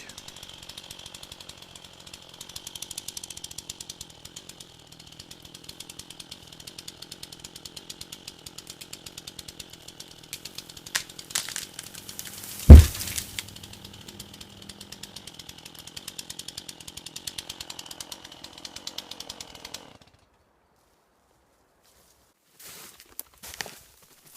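A chainsaw cutting into a tree toward the hinge to fell it: a steady, moderately distant engine drone for about twenty seconds, one sharp crack partway through, then sudden quiet with a few faint knocks at the end.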